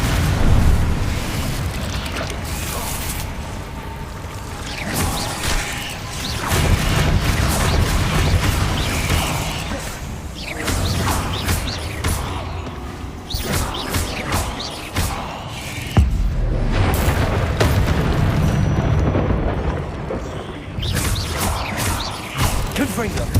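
Blasting spells detonate repeatedly in Hogwarts Legacy, loud booms and crashing bursts layered over continuous game noise and music across a long stretch of combat, with a voice talking at times.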